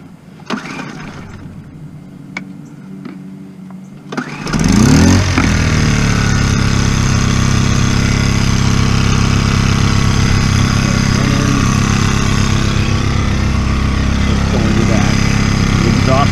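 A small gas engine sputters to life after a few quiet seconds with brief talking, then idles steadily and loudly for the rest of the clip.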